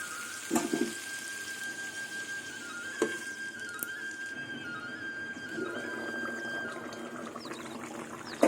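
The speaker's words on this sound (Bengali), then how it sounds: "জল কিন্তু এখানে এক কাপের মতন জল হবে জলটা দিয়ে দেবো" About a cup of water is poured into a pan while steaming silver carp with black pepper, a faint, steady trickle and splash over a quiet kitchen hum, with a couple of soft clinks.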